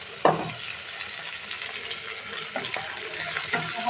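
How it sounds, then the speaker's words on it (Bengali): Dried kachki fish fries with onions in a pan, giving a steady close sizzle, a sharp clatter as it starts and a few faint stirring scrapes. "এখন এটাকে আমি হালকা একটু ভেজে নিচ্ছি।"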